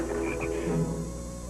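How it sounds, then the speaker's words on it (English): A frog croaks inside a house, a few short throaty calls close by over a steady background hum. "Joel Harris, you take that frog out of the house this instant"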